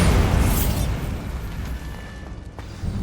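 A Bombarda spell blast in a Harry Potter game sets off a loud, heavy explosion with a rumbling boom that slowly fades over a few seconds.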